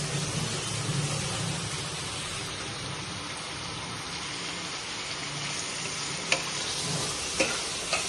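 Peeled prawns, rubbed with salt and turmeric, fry in a hot pan, giving a steady close sizzle with a few brief sharp pops near the end.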